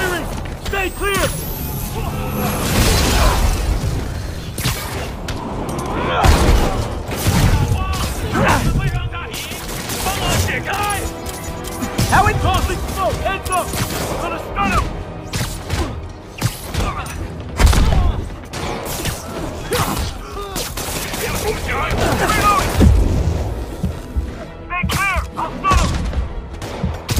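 Sustained bursts of automatic gunfire and explosions in a video game battle, loud and continuous with dense overlapping shots, while voices shout over the fighting.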